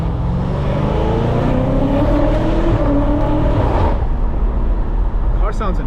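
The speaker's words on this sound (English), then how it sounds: "Car sounds amazing here." BMW F90 M5 Competition V8 engine driving, a loud steady growl with rising and falling revs and gear changes throughout, close and continuous under road noise, ending in a sharp higher rev burst.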